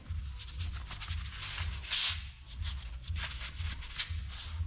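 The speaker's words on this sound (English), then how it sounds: "Back to scrubbing the sides of the van." A stiff brush scrubs foam along the side of a dirty van, producing close, steady back-and-forth rubbing strokes in a quick rhythm, with one brief harsher swipe partway through and no talking.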